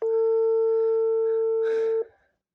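Steady electronic telephone ringback tone of a prank phone call, a continuous pure tone held for about two seconds before cutting off, with a brief burst of noise near the end.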